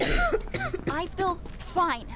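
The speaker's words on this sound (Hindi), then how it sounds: "खांसी है बस इसको तो" A character in a zombie border patrol quarantine game coughs several times in quick, close bursts mixed with throat clearing and voiced sounds.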